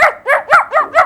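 A boy imitates a dog with five loud, evenly spaced yelping barks, close by and alone, with no other talk.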